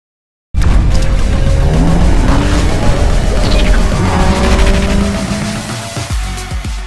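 A Hyundai i20 N in sport mode pulls away, its engine revving loud and close as it accelerates through a gear change, then settles into a steadier drive.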